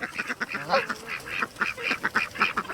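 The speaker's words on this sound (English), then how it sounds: "Talking to the ducks." Ducks quack in quick repeated bursts, close and fairly loud, a lively overlapping chatter with no talking.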